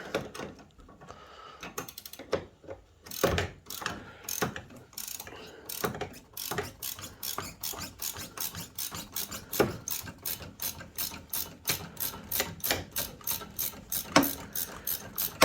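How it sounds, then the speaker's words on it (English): A ratchet wrench clicking on a suspension bolt during a coilover install on a Honda Fit, rapid close clicks in steady bursts that speed up toward the end, with no talking. "I should be able to put this ratchet wrench on it."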